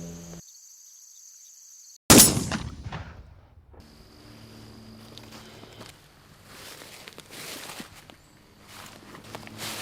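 A single sharp gunshot from a semi-automatic rifle cracks loudly outdoors in a forest after a silent pause, then fades into a quiet ambience of insects and faint footsteps.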